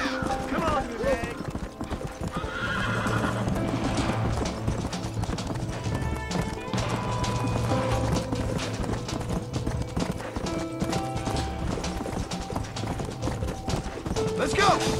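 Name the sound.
horses galloping and neighing, video game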